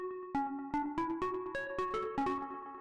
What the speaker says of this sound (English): it's a little bit like digital clipping type of sound